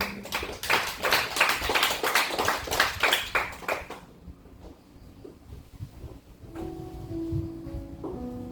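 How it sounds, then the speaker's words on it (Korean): A church congregation claps in unison during a worship service, a dense run of rhythmic handclaps that stops after about four seconds, followed by quieter room sound and the start of a sustained instrumental tone. "박수를 한번"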